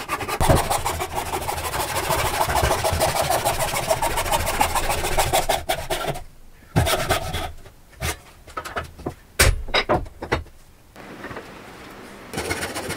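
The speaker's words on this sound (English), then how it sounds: "Let's just play it safe and take it on over to the table saw." A table saw cuts lumber, its spinning blade giving a harsh rasping whir up close for about six seconds, followed by intermittent knocks, clunks and bursts of sawing as boards are handled.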